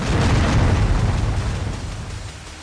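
A robot blowing up in Descent Vertigo, a deep, loud game explosion that booms at full strength and then slowly rumbles and fades over a couple of seconds, with no voices over it.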